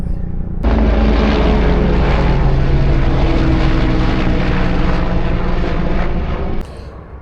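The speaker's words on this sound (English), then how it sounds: "here comes the helicopter" A helicopter roars overhead, its engine noise swelling suddenly and holding steady for several seconds before cutting away abruptly.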